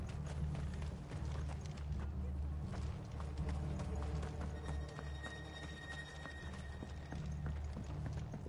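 Horses' hooves clip-clop steadily in a Final Fantasy game, a brisk rhythmic patter of several animals on hard ground that runs throughout beneath a dense bed of music and ambience.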